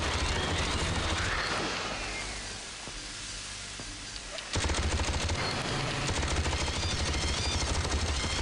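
Turret gunfire in the Alien vs Predator 2 video game, a dense sustained automatic burst that thins out midway and then surges back loud and continuous.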